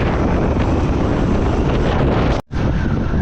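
Strong wind buffets the microphone on a mountain road in Spiti Valley, a loud, continuous roaring gust with no voices, cutting out briefly for a moment near the end before resuming.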